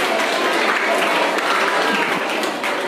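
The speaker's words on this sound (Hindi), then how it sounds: "एक बार तालियां बजा दीजिए इनके लिए।" Children, teachers and others at a school gathering applaud in a dense, continuous wash of clapping that fills the room at fairly close range, with a faint voice underneath.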